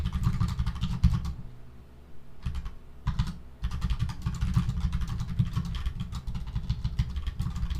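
Fingers type on a phone in quick bursts of close taps, stopping briefly twice and then resuming, with a low rumble underneath and no talking.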